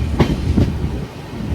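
A train passes close by on the Konkan line, with two quick clicks of wheels over rail joints followed by a steady low rumble of rolling carriages, loud and brief.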